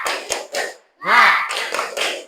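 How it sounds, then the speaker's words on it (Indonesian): A school class performs the 'tepuk semangat' cheer, with quick clap taps between short shouted group calls, close and fairly loud. "Kita tepuk semangat 1 kali."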